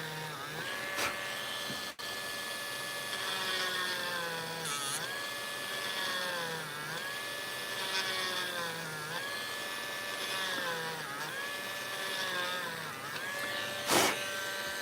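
A small Dremel rotary tool whines steadily with a high, wavering motor pitch that dips rhythmically as it drills holes, close by and continuous.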